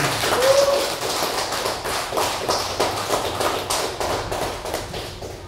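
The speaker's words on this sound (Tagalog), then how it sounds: "Palapakan natin ang Panginoon." Church congregation clapping along during a Filipino worship service, a fast, steady patter of many hands with soft thuds, continuous and fairly close throughout.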